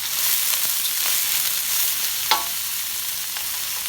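Garlic and ginger stir-frying in a pan for Hakka noodles with chicken, a steady close sizzle with a few soft scrapes of stirring and one sharp clink near the middle, no voices.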